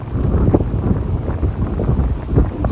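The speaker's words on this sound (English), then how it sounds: "It's raining a lot" Steady, dense outdoor rain hiss on a mountain hike near Zell am See, Austria, with low rumbling wind noise buffeting close by, continuous throughout with no voices.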